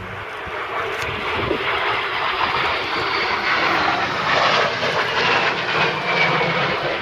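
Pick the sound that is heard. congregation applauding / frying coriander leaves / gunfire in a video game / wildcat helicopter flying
wildcat helicopter flying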